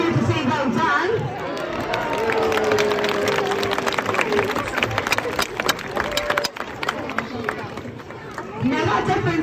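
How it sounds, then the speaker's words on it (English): Crowd at a Birmingham safari park sea lion show cheering and clapping, a dense, sustained wash of applause and shouts with talk mixed in throughout. "you can give them all a big cheer to say well done"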